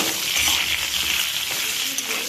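Cauliflower and potatoes sizzle steadily in a hot pan while being stirred, a loud, close frying hiss with soft scraping movements.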